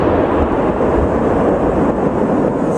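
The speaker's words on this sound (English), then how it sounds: "Did you hear that snap? Yeah. That was lightning." A loud, close thunder crash from a nearby lightning strike during a thunderstorm, a sustained broadband rumble that fills the whole stretch with steady intensity and no voices.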